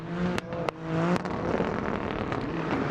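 A three-cylinder drift car's engine revs hard and steadily at a Poznań track during a professional qualification run, loud and droning with brief sharp gear-change dips.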